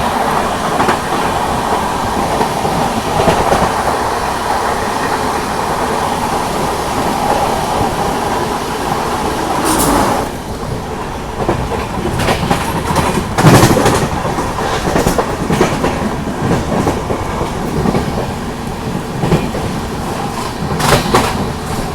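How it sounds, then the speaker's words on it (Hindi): Vikramshila Superfast Express overtakes another train on a parallel track, a loud close roar of rolling wheels with clickety-clack beats and rattling, a sharp rush of passing cars midway. "यहाँ पे किसी ट्रेन को ओवरटेक कर रही है अपनी विक्रमशिला"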